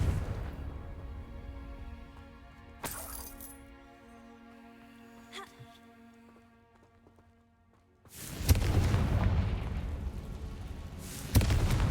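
Confringo fire spells burst in Hogwarts Legacy, with sharp cracks and rumbling blasts separated by ringing tonal game music, then a loud sustained explosion rolling out near the end.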